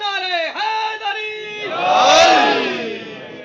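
A crowd at a religious gathering roars the Haidari slogan back in unison, a loud swelling shout that follows a chanting lead voice and peaks before easing off.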